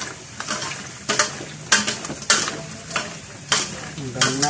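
Sliced chicken frying in a pan is stirred, giving a steady sizzle broken by several loud scraping bursts that come at irregular intervals, close and clear, with no talking.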